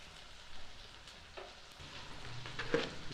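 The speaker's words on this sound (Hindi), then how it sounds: "इनको हम अच्छी तरह से भून लेंगे।" Ingredients for chicken matar being fried in a pan give a soft, close sizzle with occasional spoon scrapes and clinks as they are stirred, and no voices.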